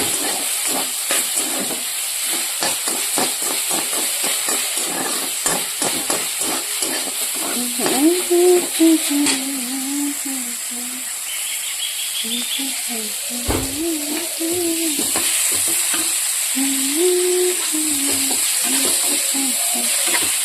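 Botboti beans frying in a pan, a steady loud sizzle with stirring scrapes and a faint hum, with someone speaking quietly over it.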